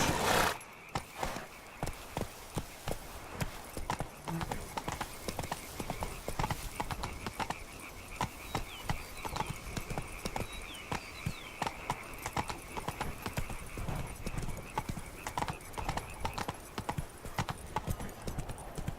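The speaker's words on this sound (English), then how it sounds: "Whoa there, Roach." Roach, Geralt's horse in The Witcher 3, gallops with quick, steady hoof clip-clops close by, and a brief whinny comes near the start, all running continuously with no talk over it.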